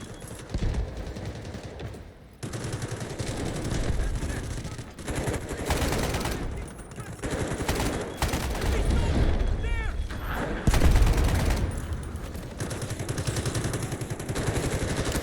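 M250 machine gun firing in the shooter game Delta Force, repeated heavy bursts of automatic fire with short gaps between them, loud and close, while a voice talks over the gunfire.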